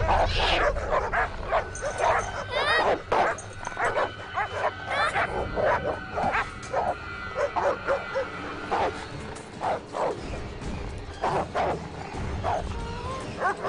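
Wild dogs in a film attack scene give repeated yips, barks and whimpers in close, uneven bursts. Snarling scuffle noise fills the gaps between calls for the whole stretch.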